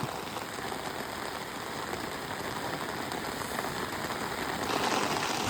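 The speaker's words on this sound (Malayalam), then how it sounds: "നല്ല മഴ പെയ്തോണ്ടിരിക്കുക." Heavy monsoon rain pours steadily near a bridge on the way to a waterfall, a dense, continuous hiss of drops on surfaces that holds loud and even throughout, swelling slightly at the end, with no talking.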